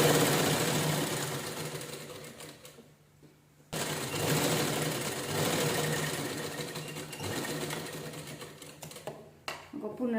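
An electric sewing machine stitches a cushion cover made from a blouse piece, running in loud continuous whirring bursts with a brief pause midway and near the end, while a voice talks over it.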